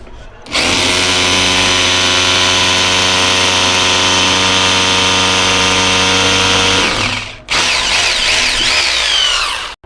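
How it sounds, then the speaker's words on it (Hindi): A rotary hammer drill fitted with a 10 mm bit bores into stone in hammer-and-drill mode, a loud steady grinding hammering roar for about seven seconds, a brief pause, then a second burst. "हमने यहां पर 2 इंच से भी ज्यादा ड्रिल कर दिया है कुछ 20-25 सेकंड के अंदर"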